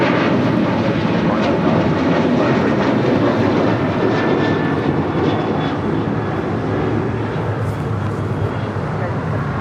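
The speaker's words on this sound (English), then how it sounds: "That was American Airlines flight 2308 heading to Raleigh-Durham in the 737-800." An American Airlines Boeing 737-800 departs LAX for Raleigh-Durham with a steady, loud jet roar that stays level and continuous from start to finish, close by and unbroken.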